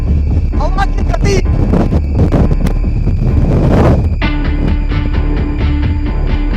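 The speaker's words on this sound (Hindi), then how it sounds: "बहुत तेज हवाएं चल रही है" Strong gusts from Cyclone Biparjoy, amid heavy rain at Dwarka, roar and buffet the microphone in a loud continuous rush, with a voice speaking under the wind.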